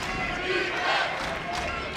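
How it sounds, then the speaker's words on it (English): Basketball crowd at an NCAA men's game, Bowling Green at Eastern Michigan, rising in a steady roar of cheering and yelling through the arena, loud and continuous with a slight swell midway. "crowd getting into it"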